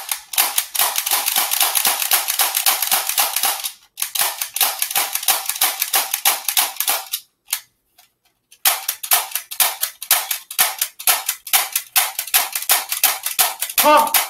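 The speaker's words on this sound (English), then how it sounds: "This is the pop gun." A toy pop gun fires in long rapid strings of sharp, loud, close cracks. Brief silences split the volleys before the fast popping starts again.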